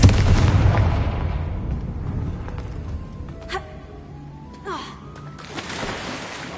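A fiery Confringo spell blast in Hogwarts Legacy on PS5 erupts as a loud, close boom, then a few sharper crackling bursts and whooshing magical effects trail off over a low rumbling backdrop.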